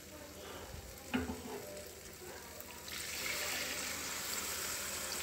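Water poured into sizzling egg curry gravy in a pan, the frying hiss swelling louder and steadier as the liquid hits the hot oil, close and continuous with no talking.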